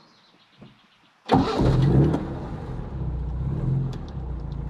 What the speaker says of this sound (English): I'm gonna fire it up and go for a spin down my road